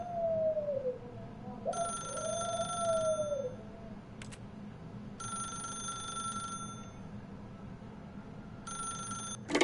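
A telephone rings in The Stanley Parable video game, three separate bursts of repeated electronic bell trills over a steady low background hum, with a short rising tone near the start.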